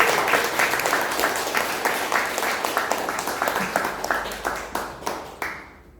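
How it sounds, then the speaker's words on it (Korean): An audience applauds a professor at an invited lecture in Sejong, with dense clapping that gives way to sparser, separate claps before fading out near the end. "박수 한 번 더 부탁드리겠습니다."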